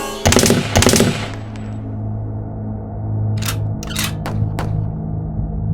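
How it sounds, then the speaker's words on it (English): Two sharp bursts of rapid gunfire ring out close by, then a few scattered cracks sound further off over a low rumble. "Soon their conversation is cut short by sudden gunfire."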